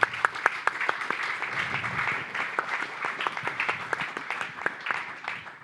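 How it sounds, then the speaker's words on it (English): An audience applauds at a developer conference, many hands clapping together in a dense, even patter that continues throughout at moderate volume. "I would like to give a little applause to Uwe"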